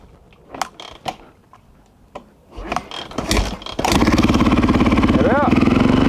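A KTM 660 SMC single-cylinder motorcycle is kicked over a few times, then catches on the second proper kick and settles into a loud, steady, fast-pulsing idle as it warms up, with a brief rev near the end.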